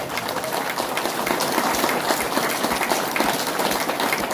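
Seminar audience at a town hall meeting in Banka, Bihar clapping steadily, a dense, loud wash of applause held throughout with no speech over it.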